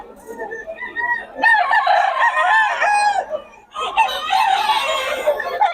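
A young white claret gamecock stag crows twice up close, each loud call rising and breaking, with softer clucking and background chatter between.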